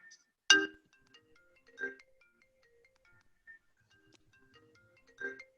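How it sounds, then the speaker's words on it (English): A phone ringtone goes off during an online community equipment barn meeting, sounding in three separate short bursts spread over a few seconds against otherwise near-silent room tone. "Someone's phone going?"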